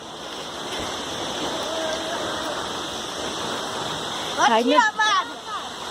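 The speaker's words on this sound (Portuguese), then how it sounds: "Olha lá, cachoeira." Steady broadband roar of the Véu de Noiva waterfall at Barra do Turvo runs unbroken throughout, with excited voices talking over it near the end.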